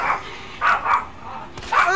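A man imitates a dog barking, giving several short yelping barks in quick bursts close to the mic, with faint background noise between them during a Resident Evil 2 Remake play session.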